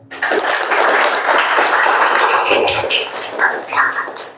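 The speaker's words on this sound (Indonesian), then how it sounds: "Sekali lagi, beri aplaus untuk kita semua." Applause from a classroom of children and teachers during a school project session, a steady dense clatter of many hands sustained throughout at close range, with a few voices and squeals mixed in.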